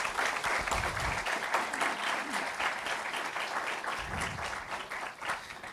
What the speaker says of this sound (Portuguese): Salva de palmas para o Pedro Parente